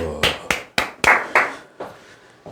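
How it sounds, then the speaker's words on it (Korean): A single person claps by hand, about six or seven distinct, close claps in a loose, slowing rhythm, alone in a quiet room. "박수"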